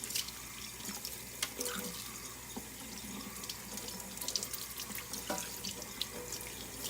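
Lukewarm tap water runs steadily into a sink while hair extensions are rinsed, with continuous splashing and occasional drips close by.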